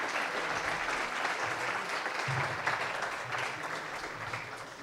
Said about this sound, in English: let's gonna give a warm round of applause for our dear speaker, PhD Ana Claire Sanchez